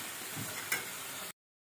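Previously fried fish pieces drop into sizzling hot oil in a pan, giving a close, steady frying hiss with a brief clatter of stirring before it cuts off abruptly.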